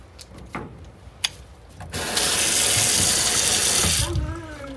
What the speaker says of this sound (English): hopefully the sound of the water isn't going to be too overpowering over my voice